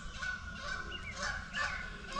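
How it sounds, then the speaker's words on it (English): A couple of Canada geese with their families honk loudly and continuously in a close confrontation, harsh overlapping calls filling the scene. "Little confrontation going on between a couple of Canada geese and their families."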